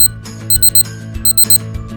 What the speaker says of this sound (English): The timer beeps when you have 10 seconds left for your turn, and it beeps again once your turn is over.